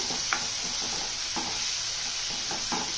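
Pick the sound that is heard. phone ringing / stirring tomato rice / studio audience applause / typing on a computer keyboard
stirring tomato rice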